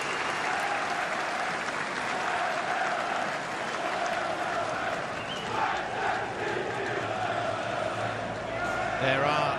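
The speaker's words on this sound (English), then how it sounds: "There are the travelling supporters for the Western Sydney Wanderers looking to cheer their side on to finals football" Travelling Western Sydney Wanderers supporters cheer and clap at an A-League match against the Newcastle Jets, a continuous broad crowd roar with chanting swells and a sharper burst near the end, heard under commentary.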